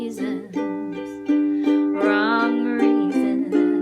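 A ukulele strums the chorus of a song on its fourth loop, with bright, even chord strokes in a quick steady rhythm, played up close with no voice over it.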